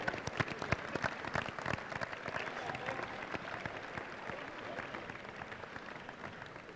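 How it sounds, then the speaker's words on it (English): Applause from an audience honoring standing Golden Bears basketball alumni at a senior presentation, a steady crowd clapping with sharp individual claps near the start that settles into a sustained even wash. "could you please stand up for us so we can give you a round of applause?"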